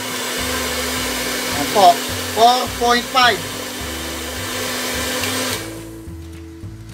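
A hair dryer on low heat, powered by a homemade variable-voltage inverter converting to 220V, hums steadily with a constant drone, briefly interrupted by a few short spoken words, then its tone shifts as it winds down near the end.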